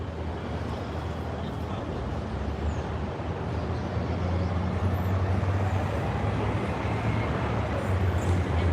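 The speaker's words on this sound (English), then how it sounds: "Got these cars coming down here." Cars roll through the airport pickup lane at LAX, a steady low rumble of passing vehicles and road noise that holds constant throughout, with faint voices mixed in.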